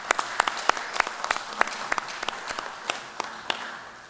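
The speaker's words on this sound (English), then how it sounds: "If none, we would give a round of applause to Ronenberg." Audience at the APIL 40th General Assembly in Chuuk giving a round of applause, a moderate crowd of scattered, distinct hand claps at an uneven rhythm, gradually thinning out over a few seconds.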